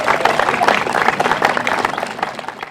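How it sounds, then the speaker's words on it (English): An audience at a park dedication event in Austin bursts into sustained, dense applause, many hands clapping close by and fading slightly at the end. "Let's give her a special round of applause."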